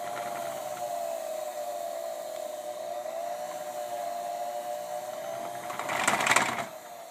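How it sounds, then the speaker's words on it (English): A fishing rod wrapping machine hums steadily at full throttle with its pedal strapped down, a close, continuous whine that holds even pitch, with a brief clattering burst near the end. "I've actually got the pedal strapped down to full throttle"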